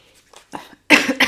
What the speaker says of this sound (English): Excuse me, coughing, sorry.